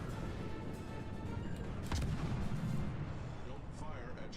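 Naval guns fire on an allied ship in the video game World of Warships, heavy artillery booms and crackling blasts over a dense, continuous roar of battle, with one sharper burst partway through.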